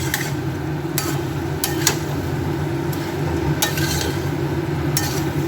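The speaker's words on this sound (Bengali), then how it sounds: "মাংসটা দিয়ে একটু কষবো এমনি ঢেলে দিয়ে কষছি আমি" Mutton curry with tomato sautéing in a pan on high flame, a steady low sizzling rumble with periodic sharp spatula scrapes and taps against the pot.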